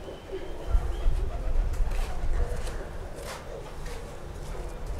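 Fancy pigeons coo at a loft, a low throaty murmur with a few soft thumps and shuffles, moderately close and steady.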